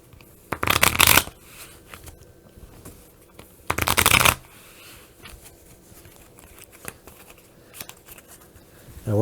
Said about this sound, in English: And I shuffle the deck.